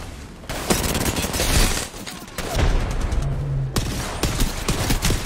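Rapid bursts of gunfire in the Apex Legends video game, loud and close, with dense volleys broken by brief pauses.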